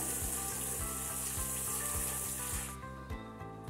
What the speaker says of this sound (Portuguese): eu vou colocar um pouquinho de água aqui dentro